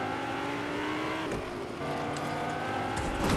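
Engine of a car driven in a video game roars steadily throughout, with brief tire-squeal-like shifts and a rising rev near the end, loud and continuous with no talking.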